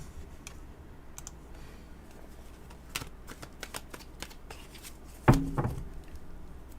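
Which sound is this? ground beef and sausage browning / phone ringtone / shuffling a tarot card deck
shuffling a tarot card deck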